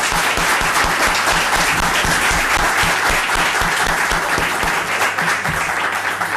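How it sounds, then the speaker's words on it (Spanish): An audience at a gathering of the Medellín mayor with the Paisa community claps steadily and loudly for several seconds, a dense, even wash of applause with no voices over it. "Un aplauso."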